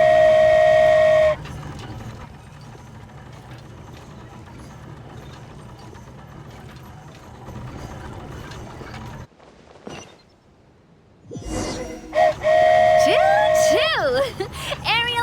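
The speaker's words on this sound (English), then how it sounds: "Choo-choo! Aerial Express moving out." A flying train departs in the video game Genshin Impact: a loud tonal whistle sounds at the start and toots again near the end, with a steady mechanical rumble in between.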